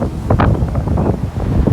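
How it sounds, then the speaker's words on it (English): Strong gusty wind of about 40 mph blows beside a small pond, buffeting the microphone with a loud, continuous low roar and rough surges. "Just listen to this friggin' wind."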